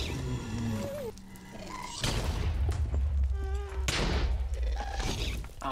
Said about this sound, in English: There's two ghasts firing at us now.